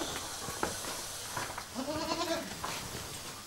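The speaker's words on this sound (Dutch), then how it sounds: "Hé, hey, geitjes!" A goat lets out a single short, wavering bleat, moderately distant and partly buried in steady outdoor noise.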